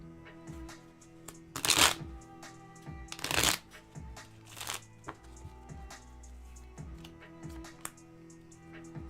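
Cards being riffle-shuffled, a few crisp bursts of rapid flutter with quieter shuffling and handling noises between, close up.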